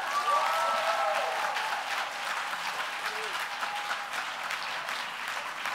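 Applause for a poet at a poetry slam: sustained, even clapping from a sizeable crowd, moderately distant and steady throughout, with faint murmurs underneath.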